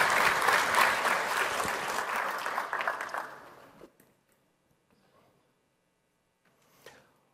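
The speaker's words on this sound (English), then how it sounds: "a round of applause for our panel members" Strong applause from a conference audience for a panel at a VMware cloud management session, dense and close for several seconds before tapering off abruptly into near silence with a faint sound near the end.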